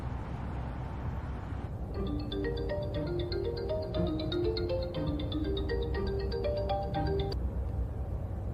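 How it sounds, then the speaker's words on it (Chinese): A mobile phone ringtone plays a bright repeating melodic pattern over a steady low background hum, starting after a brief lead-in and cutting off abruptly after about five seconds, with no voices. "怎么不接电话？"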